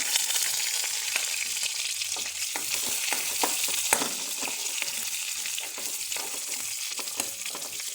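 Chopped onion frying in oil after mustard seeds have popped, from a South Indian tempering before brinjal is added: a loud, continuous close sizzle with scattered crackles and occasional stirring taps, no voices.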